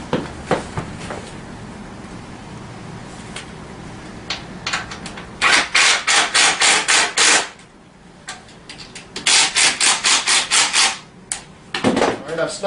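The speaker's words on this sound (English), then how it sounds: "I'm going to go ahead and snug up the rest of my front fender." Bolts being tightened by hand on the front fender of a Tao Tao CY50D scooter, heard as close, repeated ratcheting rasps in rhythmic bursts with short pauses between them.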